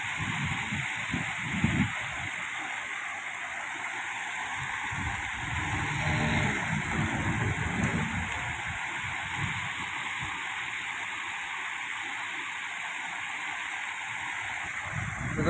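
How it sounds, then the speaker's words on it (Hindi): Water flowing through an open drain channel toward the sea, a steady broadband rush that holds at moderate loudness throughout, with a voice speaking over it at times. "देखें ये नाला जो है ना सीधा समुद्र की तरफ जा रहा है।"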